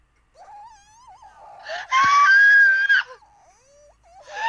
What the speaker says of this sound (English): There's a long period of idle sounds, and then a scream, along the loud noise.